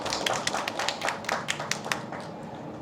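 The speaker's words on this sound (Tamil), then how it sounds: "அவருக்கு வந்து ஒரு பெரிய கைத்தட்டல் கொடுக்கலாம்" An audience at a Chennai Book Fair launch of two books claps for author G.R. Surendranath: sparse, sharp individual claps scattered irregularly, fairly close and crisp, with no talking.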